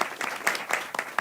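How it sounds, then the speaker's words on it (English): An audience at a health policy event applauds a congressman taking the stage, with dense, lively clapping from a crowded room that rises and falls in quick bursts. "Please give him a round of applause."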